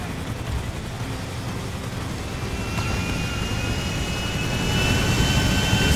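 Airplane engine in the video game Grand Theft Auto 5, a loud sustained jet roar with a thin whine that swells slightly louder over the last seconds, no talking.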